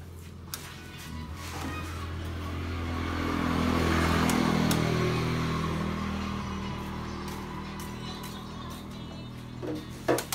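A Honda Scoopy scooter engine idles nearby with a steady low drone, swells briefly in the middle, then settles back, with a few clicks near the end.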